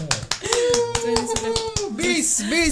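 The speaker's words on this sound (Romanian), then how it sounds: "Aplaudă!" Applause from a small group, a run of sharp hand claps starting almost at once and continuing steadily, mixed with voices and a singing or cheering voice rising over the clapping.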